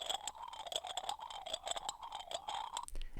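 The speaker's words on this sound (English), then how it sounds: "I have this sample from like a porcelain container." Light, rapid clattering and scraping on a porcelain container, a busy jittery texture that ends in a brief low thump.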